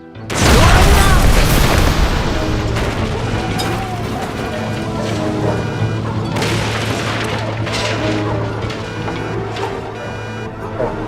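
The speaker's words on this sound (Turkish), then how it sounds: "Bu sefer doğru araba patladı." A car explodes with a sudden loud boom that opens the clip, followed by a long rumbling crash and debris-like clatter that keeps going at high volume.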